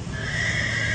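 A horse saddled and fed before a rodeo grand entry neighs loudly and close, a sustained whinny that holds for about a second.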